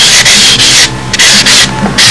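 Loud, close scrubbing of 600-grit sandpaper on a soft pad over fibreglass, back-and-forth strokes in a quick even rhythm with brief pauses between passes.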